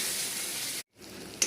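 Tomato frying with browned onion in a pan for a bottle gourd bhaji gives a steady, close sizzle. It cuts out briefly, then resumes more softly with a small clink near the end.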